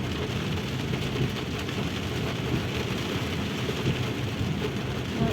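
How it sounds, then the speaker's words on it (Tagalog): Heavy rain falling at night in Jeddah, a steady dense roar of rain on surfaces that continues unbroken throughout, with no voices. "Yung ulan, pumapasok sa loob ng bahay namin."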